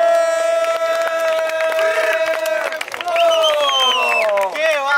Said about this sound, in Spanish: ¡Fuerte el aplauso para este batallón, mi gente!